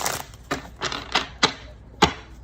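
A deck of tarot cards being shuffled by hand, giving six sharp riffling bursts at a steady pace, close and fairly loud with no talking.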